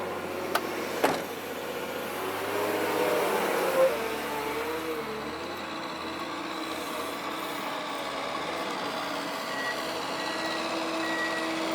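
A truck at a concrete plant backs up with its reversing alarm beeping steadily over a low diesel engine rumble, with a couple of sharp knocks near the start and a continuous mid-distance drone throughout.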